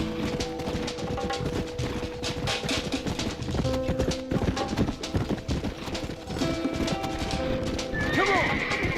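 Horses gallop in a video game, hooves pounding in a rapid clip-clop with neighs and whinnies breaking through, loud and continuous, with game music tones and a shrill whinny near the end.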